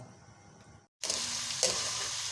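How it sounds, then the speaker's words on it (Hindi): Garlic ginger paste sizzles in hot oil in a karahi for Balochi chicken karahi: a soft frying hiss, a moment of quiet, then a loud, steady, close sizzle. "इसमें हमने लहसुन अदरक का पेस्ट डाल के भून लेना है"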